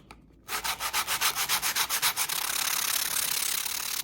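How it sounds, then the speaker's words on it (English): Sandpaper rubs rhythmically back and forth on the trailing edge of a wooden boomerang, about a dozen quick strokes, then settles into a continuous close scraping hiss. "we start sanding this trailing edge"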